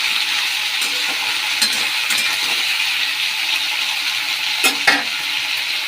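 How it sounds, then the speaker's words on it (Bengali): Fish, a small parshe, frying in hot oil in a pan, giving a steady close hiss of sizzling throughout with a few brief crackles and pops near the end. "এখানে মাছটা ভাজা হোক ততক্ষণ।"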